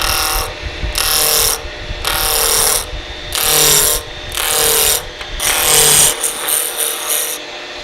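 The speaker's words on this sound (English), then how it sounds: "Then use the roughing gouge to turn this into a cylinder." Roughing gouge cutting a spinning wood blank on a lathe, shaping a table lamp shaft into a cylinder: loud repeated scraping, chattering passes about a second each with short gaps, close and without talk.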